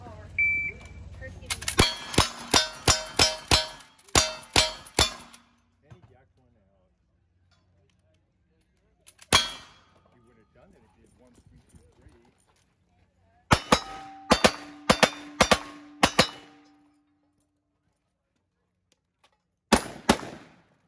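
Rapid strings of pistol shots ring out at a Texas State 2023 practical shooting match stage, loud sharp cracks in fast bursts with pauses between, some followed by metallic clangs of steel targets.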